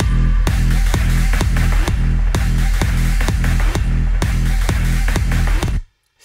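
Layered synth: a loud, dense, buzzy chord stab pumping in a steady fast rhythm with a heavy low thump on each beat, running for several seconds before cutting to silence.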